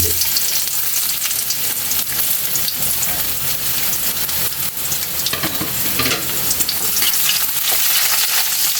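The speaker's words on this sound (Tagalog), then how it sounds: "At nagpapainit na tayo mantika. Mag-umpisa natin mag-isa tara. Napakasimple lang kay Eli. Unahin mo natin yung luya natin" Ginger fries in hot oil for bopis, giving a loud, steady sizzle and crackle that runs throughout, with occasional stirring and spatter close by and no talking.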